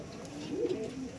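A Dhari pigeon gives a single low, rolling coo, soft and somewhat faint, rising and falling over about half a second against quiet background hum.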